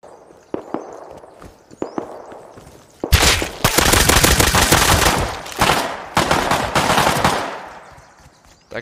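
Rapid bursts of gunfire from a suppressed P2 pistol in the survival video game Rust, loud and clustered from about three seconds on, with quieter scattered shots and footsteps before.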